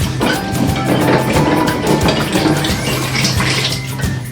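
Glass beer bottles being washed in a tub of water with PBW cleaner, held low in the water while bottle conditioning homebrew; continuous sloshing, splashing and watery clinks, close and steady throughout, with no talking.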